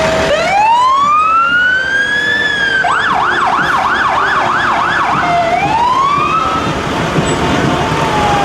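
Fire trucks roll through a rainy Heritage Day parade in Upsala, Minnesota, and a loud siren wails, shifts into a rapid yelp for a few seconds, then falls back into a slower wail, close and clear.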